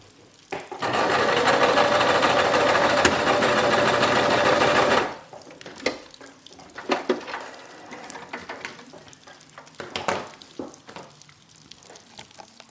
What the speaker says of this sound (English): your Brother X3 sewing machine